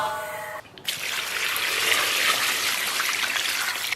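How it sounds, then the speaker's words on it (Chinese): Blanched pig intestines being rinsed under running water, a steady close splashing and trickling stream that starts abruptly after a brief clatter and continues without talk. "简单的把肥肠再给它洗一下。"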